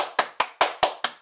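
Six sharp hand claps in an even, unhurried rhythm, each a crisp close slap standing alone with brief silence between.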